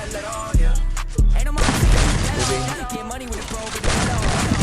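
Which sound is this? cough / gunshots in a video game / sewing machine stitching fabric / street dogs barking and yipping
gunshots in a video game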